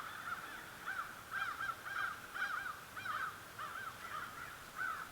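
A large flock of around fifty crows caws steadily at a distance, in repeated harsh calls that overlap in loose, uneven rhythm and stay fairly faint over light background noise, with no talking.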